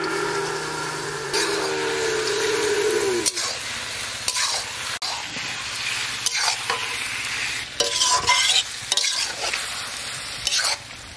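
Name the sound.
mutton frying with whole garam masala and bay leaves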